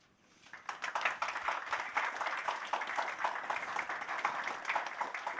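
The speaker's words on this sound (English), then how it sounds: "Wow, it doesn't happen often to have a spontaneous applause" Spontaneous applause from a summit audience at an international AI conference, swelling quickly after a quiet start into dense, steady clapping that holds at a moderate level for several seconds.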